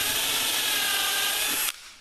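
A power drill whirs steadily as it bores through the fiberglass-covered underside of a kayak hull during hatch lock installation, loud and close, then cuts off abruptly near the end.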